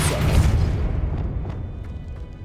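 The Depulso spell cast in the video game Hogwarts Legacy: a deep, heavy boom that hits at once and rumbles away over a couple of seconds, with faint clicks in the fading tail.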